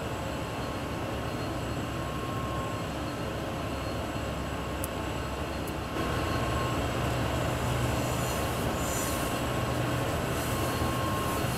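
A freight train runs on the Antelope Valley line in Train Sim World 4, a steady loud rumble of engine and rolling wagons that swells slightly partway through, with no voices.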